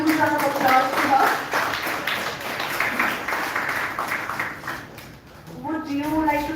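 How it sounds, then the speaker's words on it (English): An audience claps and applauds in a hall, a dense patter of hands that swells in the middle under nearby talking voices, which return as the clapping fades. "Can you please give a huge round of applause to her?"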